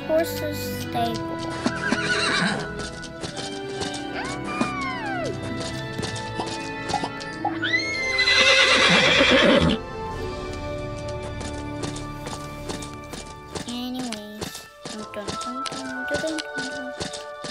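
Horse neighing and whinnying several times in a horse riding video game, with hoof clip-clops and game effects over a steady musical background, loudest in the middle with a long whinny.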